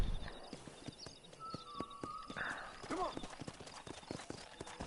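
Horse hooves clip-clopping in the Western video game Red Dead Redemption, a rare agile horse moving at a walk: quick uneven hoof knocks, fairly close, under game sounds with a brief whinny-like cry mid-clip and a voice speaking.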